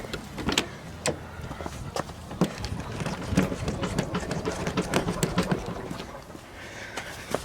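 A lowered Nissan 240SX is bounced on, producing a series of irregular thumps and rubbing squeaks from the tire and body, close and moderately loud.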